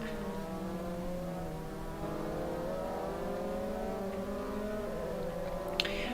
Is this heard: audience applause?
no